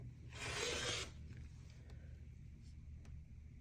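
A single short swish of quilt kit fabric being cut, heard close and faint for under a second against a low steady background hum.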